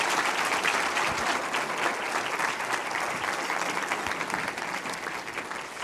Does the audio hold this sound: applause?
yes